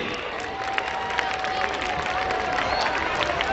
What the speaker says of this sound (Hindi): एक बार ताली बजाइए इन बच्चों के लिए।